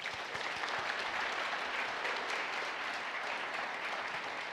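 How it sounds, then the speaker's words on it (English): A keynote audience at Lenovo Transform 2017 gives a steady round of applause, an even wash of many hands clapping, fairly faint and heard from a distance with no talking. "how about a big round of applause for YY?"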